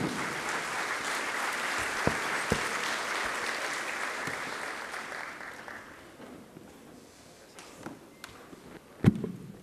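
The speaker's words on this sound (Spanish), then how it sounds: "Lo recibimos entonces con un fuerte aplauso" An audience at a national education congress gives a speaker a welcoming round of applause. The clapping is dense at first and thins out toward the end, with a few louder taps and shuffling sounds.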